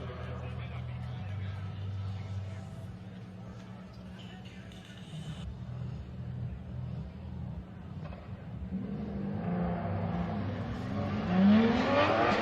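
Michael Essa's drift car in qualifying at Formula Drift New Jersey gives a rumbling engine that builds into a rising, rasping rev near the end, with a commentator talking over it throughout.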